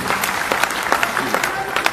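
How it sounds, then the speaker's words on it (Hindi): Audience applause at a public rally in honour of general secretary Madhur Seth, a brief steady patter of many hands with murmured voices in the crowd. "इनके लिए भी तालियां बजा दीजिए सभी साथियों को।"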